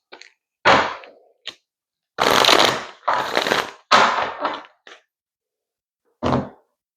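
A deck of tarot cards is being shuffled, making several sharp bursts of riffling and slapping card noise close by, separated by silent gaps.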